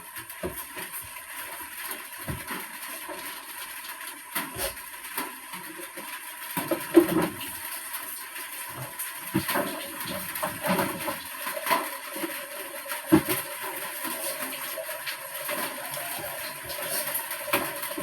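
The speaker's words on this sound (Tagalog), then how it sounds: "Agas sa lang tubig guys." Water pouring from a pipe in a steady continuous rush, moderately close, with occasional splashes and knocks and no one speaking.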